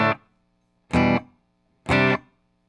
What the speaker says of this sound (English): Clean sounds like this.